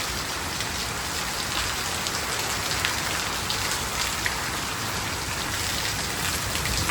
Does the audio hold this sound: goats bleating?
no